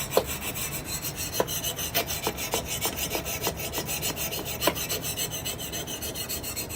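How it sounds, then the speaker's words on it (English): A Lansky sharpener works the edge of a lawn and garden tool in repeated back-and-forth strokes. It makes close, dry rasping scrapes in a steady rhythm with no talking. "As I'm sharpening. I know I'm going back and forth."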